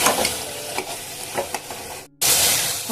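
Spices with salt and turmeric being stir-fried in a pan for soybean ghugni: a loud, continuous sizzle with rhythmic scraping stirs, cutting out abruptly before resuming.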